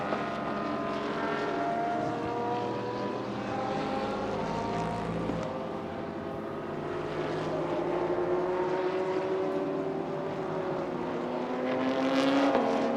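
A Toyota C-HR touring race car laps the circuit during a TSS 2019 race, its engine note climbing and falling in long sweeping revs, a steady loud roar that swells again toward the end.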